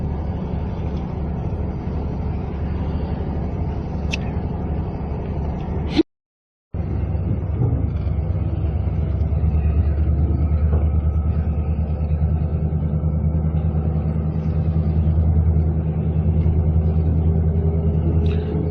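A car pulling out of a campground, a steady low engine rumble and road noise from inside the cabin, continuous and fairly loud, with a brief dropout partway through.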